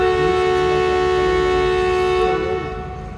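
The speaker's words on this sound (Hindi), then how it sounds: "नौ बज के 5 मिनट पे मूव होना शुरू हो गई है हमारी 48 रहमान बाबा एक्सप्रेस" The 48 Rehman Baba Express sounds a loud, sustained multi-tone horn as it starts moving from Sangla Hill Junction. The blast holds steady over a low rumble, then fades near the end.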